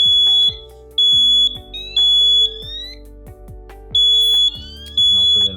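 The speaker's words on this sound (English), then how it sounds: "So there our 1168 is going off, and we see that alarm being transmitted to the panel." A DMP 1168 wireless smoke/CO detector sounds off with loud, piercing electronic beeps in repeating bursts and pauses, close by, with no talk over it.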